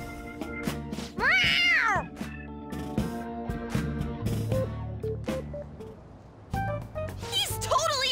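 A cat meows in the Persona 5 Royal video game, one clear rising-and-falling mew near the start, heard between game characters talking over background music.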